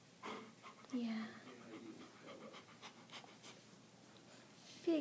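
A dog waits in an emergency vet clinic waiting room, panting steadily with soft breathy rhythm and a brief yawn, close by and fairly quiet, with people talking over it.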